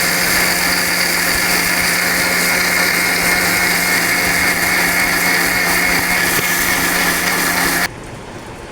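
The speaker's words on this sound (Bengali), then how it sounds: "এই যে আপুরা বাকি চালগুলা ব্লেন্ড করতেছি" An electric blender grinds roasted rice into powder, a steady loud whirring motor drone that runs without a break for about eight seconds, then cuts off abruptly into a quiet tail.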